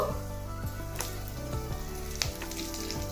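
Thin slices of ginger and curry leaves fry in oil for semiya upma, a soft steady sizzle with a few faint pops and clicks under a constant low hum.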